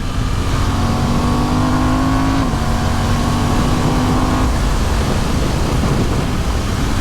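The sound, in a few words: motorcycle engine with aftermarket exhaust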